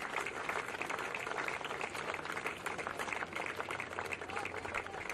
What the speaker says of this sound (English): As the crowd claps him off